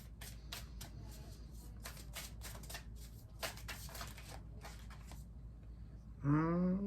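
An oracle card deck is shuffled by hand in quick, repeated riffling bursts, close and fairly soft, before a voice briefly begins at the end.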